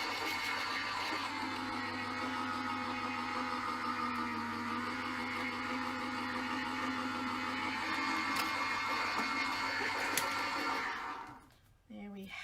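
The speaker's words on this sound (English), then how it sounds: "With my die cutting machine, I need to put this in upside down, and I apologise for the noise." A die cutting machine runs in a home craft room with a steady mechanical whirr and hum, a constant low drone under brighter motor noise, holding level for several seconds before winding down abruptly near the end.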